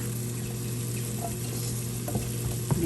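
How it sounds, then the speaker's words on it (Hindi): Chicken shashlik being gently mixed in a pan, a quiet low sizzle with soft stirring scrapes and a faint clink near the end. "ये देखें अब इसको करते हैं जनाब हल्का हाथों से मिक्स"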